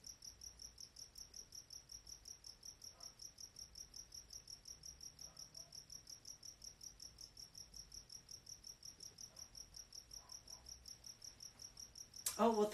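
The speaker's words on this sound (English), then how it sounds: "Crickets in English." Crickets chirp steadily at night in a fast, even pulsing trill that runs throughout, quiet and unbroken, with a brief louder rustle at the very end.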